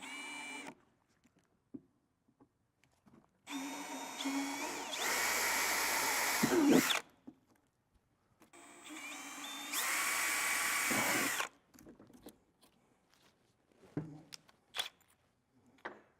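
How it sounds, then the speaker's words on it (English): A power drill with an 11/64 bit drills two small holes in two long bursts, whining steadily for several seconds each, with quiet clicks and handling noises between and after. "Drill the 2 smaller holes."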